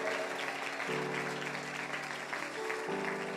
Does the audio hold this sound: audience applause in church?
yes